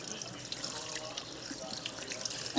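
Tap water runs into a kitchen sink over a batch of potatoes being chilled for freezing, a steady soft splashing hiss that stays fairly quiet throughout.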